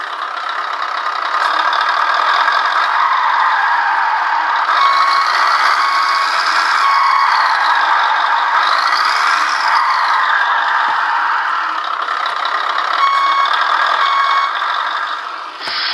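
A Beier MSM-1 sound module on a model truck plays its engine sound effect as the throttle is opened, a loud continuous electronic engine drone with rising and falling pitch sweeps.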